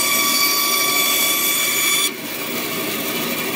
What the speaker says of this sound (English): So the bandsaw can only cut about that tight of a curve.